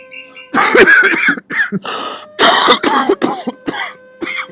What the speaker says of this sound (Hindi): मैंने आपकी खांसी की आवाज सुन गई